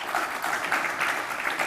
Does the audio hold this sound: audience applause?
yes